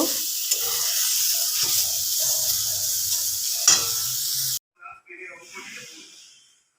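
Mushrooms frying in a pan, a loud continuous sizzle and hiss with a few sharp stirring scrapes, cutting off abruptly near the end followed by quieter kitchen handling sounds.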